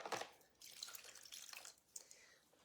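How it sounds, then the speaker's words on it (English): Tap water runs over a painted sled transfer in a sink as it is rinsed off, a steady broadband splashing in bursts with brief pauses, close and fairly quiet. "I'm going to rinse it off."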